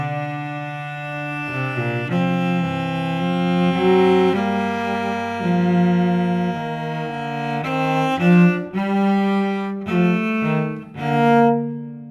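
Canon in the Quarenghi style, its theme stretched to twice the length in augmentation and turned to descend in contrary motion, a sustained, harmonious instrumental texture of long held notes moving in steady steps, with no voices.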